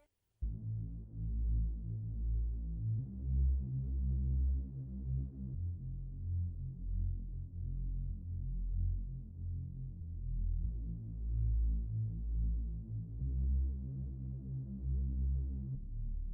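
A dark, muffled Metropolis synth pad with its filter cutoff lowered holds long sustained chords, warm and low with the bright overtones rolled off, swelling gently as the chords change.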